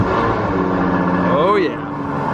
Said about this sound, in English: Here's a cold start with the FF with the valves wired open.